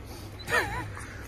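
A dog gives one short, high whimpering yip up close, rising and falling over a low background hum.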